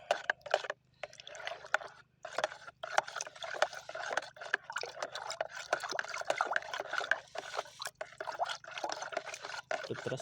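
A spoon stirring a liquid fertilizer solution made with a POC booster and slow-dissolving soil additive, giving dense, continuous wet swirling and sloshing with small clinks, steady and close throughout.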